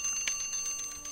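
Alarm clock ringing inside a German-played video game, a bright bell-like ring that holds steady through the whole short stretch at a moderate level with no talk over it.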